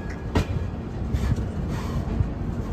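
An express train pulls into Jolarpettai junction, its cars rumbling close by with a steady low roll, clickety-clack wheel beats and a brief metallic squeal.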